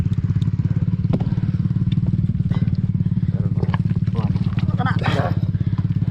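A motorcycle engine idles close by on a trail, a steady, rapid, throbbing rumble that runs the whole way through, with clatter and knocks and people talking over it.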